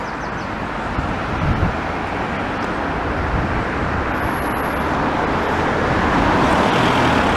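A white car passes along North Park Drive near St Walburgas Road, its broadband road noise swelling steadily and growing closer and louder toward the end of the stretch.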